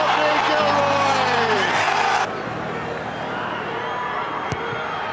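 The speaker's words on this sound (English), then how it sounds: "Listen to the crowd." A rugby stadium crowd at a Sharks versus Ulster match roars in a loud, dense wash that drops off after a couple of seconds, with a commentator talking over it.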